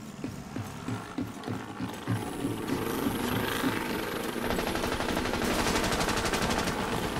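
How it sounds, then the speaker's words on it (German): Gunfire and combat noise from the video game The Division 2: rapid automatic bursts and shots in the distance build into a dense, continuous firefight that grows louder and steadier, with no voices over it. "Ich höre Gefechtslärm und wo Gefechtslärm ist, ist auch Ranger nicht verkehrt."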